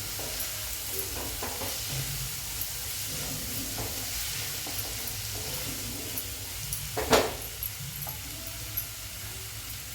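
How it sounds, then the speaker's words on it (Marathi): Yellow, red and green bell peppers sautéing in a pan give a soft, steady sizzle and hiss, with light stirring scrapes and one brief louder clatter near the end. "पिवळी, लाल आणि हिरवी, ती पण घालून घेऊया. ती पण परतून घेऊया."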